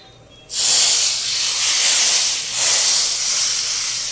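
A tempering for kadhi pakora hits a hot pan and erupts into a loud, sudden hiss that keeps sizzling steadily and swells briefly partway through, with no voices over it.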